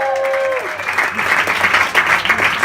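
Applause from a comedy club audience at The MIC NYC swells after a voice briefly calls out, becoming a dense, loud wash of clapping with scattered cheers.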